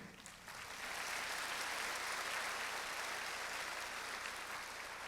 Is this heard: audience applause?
yes